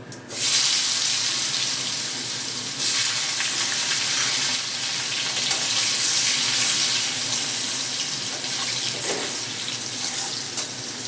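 Potato pieces drop into hot oil tempered with cumin seeds, and a loud, steady, hissing sizzle follows right up close, holding strong for about ten seconds with no talking.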